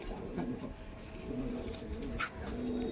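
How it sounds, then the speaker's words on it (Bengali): Pigeons cooing close by, repeated low soft coos in a rolling rhythm over a faint background hum. "খুব সুন্দর কোয়ালিটির পায়রা।"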